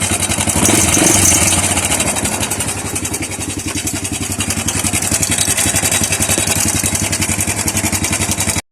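A Honda Wave 100 motorcycle engine idles loudly up close with a rapid, rattling clatter from a worn timing chain layered over its steady chugging rhythm, briefly revving near the start.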